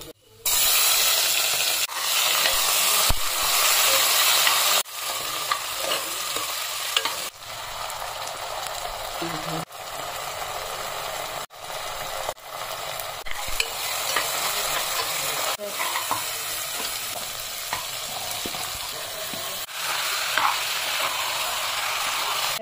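Bay leaves hit hot oil in a kadai and crackle and sizzle loudly and steadily up close, broken by a few short pauses and stirring scrapes.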